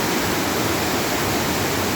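Water pouring down Hamogaway Falls in Bayugan City, Agusan del Sur, fills the air with a constant, hissing roar, near and loud with no pauses or other sounds.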